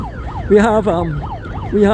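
A siren at a cycling race wails in rising and falling sweeps, loud and close, with stronger pulsing bursts in between and a faint voice underneath.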